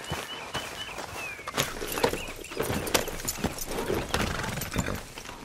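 Horse hooves clip-clop at a steady walking pace in Red Dead Redemption, close by, with faint ambient rustle and no talking.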